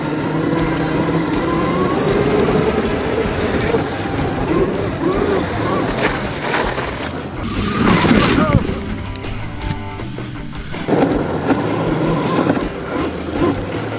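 A 72 volt Razor electric vehicle drives and spins on slick snow, giving a steady whirring drive noise with louder surges around the middle and near the end, while people talk over it.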